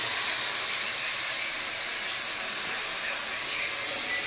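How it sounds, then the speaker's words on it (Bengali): Hot water poured into rice frying in oil with ginger, garlic and onion, giving a loud, steady broadband hiss and sizzle that holds evenly throughout with no pauses. "এখন গরম পানি দিয়ে দিতেছি।"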